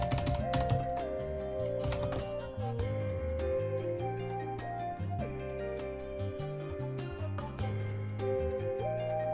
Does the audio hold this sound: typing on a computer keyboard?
yes